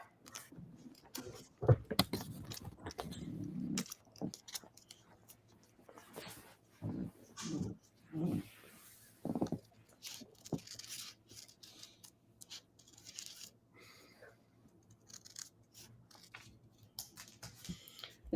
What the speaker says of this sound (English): I think I'll cut something out of the sides